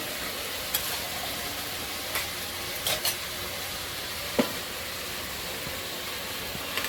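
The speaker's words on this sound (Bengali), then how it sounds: "এদিকে ঝোলটা ফুটছে" Taro curry with onion, ginger, garlic and tomato paste sizzles and bubbles steadily in oil in a pan, a continuous close hiss with a few faint clicks and pops.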